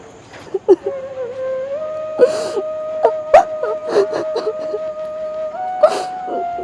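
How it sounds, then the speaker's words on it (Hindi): A girl's high, wavering cries and whimpers come in uneven bursts with sharp gasping breaths, fairly close, over a faint steady background tone. "किसी के रोने की आवाज़ आ रही है वहाँ से।"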